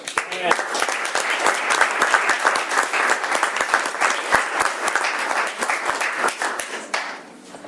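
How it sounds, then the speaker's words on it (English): A city council meeting audience claps for a man honored for 50 years in the grocery business, sharp individual claps clearly audible within steady applause that tapers off near the end. "Can we give him a round of applause, Mayor?"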